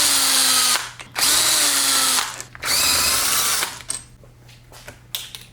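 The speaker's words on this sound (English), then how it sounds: "Going to remove all these bolts now on the extension housing over here." A power tool drives out the extension housing bolts on a Muncie M22 transmission, loud whirring bursts of about a second each with brief pauses, then shorter quieter clicks and spins.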